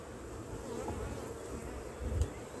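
Honey bees buzz around an open hive during an inspection, a soft continuous droning hum with occasional louder passes close by.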